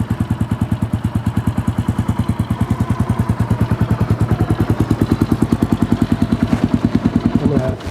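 A carbureted Kawasaki KLR650 motorcycle engine runs at idle nearby, a loud, even single-cylinder thumping pulse that carries on steadily for several seconds before a slight change at the end.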